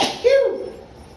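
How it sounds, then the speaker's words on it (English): A person sneezes once while cooking and chopping garlic, a short sharp burst with a breathy tail, close and fairly loud, alone without talk. "Oh man, that went in my nose, man. Gonna have to sneeze."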